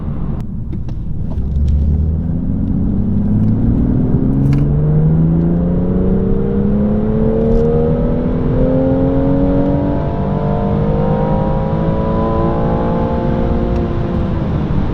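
A tuned BMW M240i at Stage 1 accelerates hard through the gears during a performance run, its engine note climbing repeatedly in a loud, close, continuous roar with no talk.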